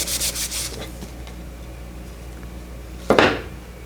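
A sliver of metal is sanded off during a Wimshurst machine build, with a few quick rubbing scrapes at the start and one louder, brief abrasive burst near the end over a low steady hum.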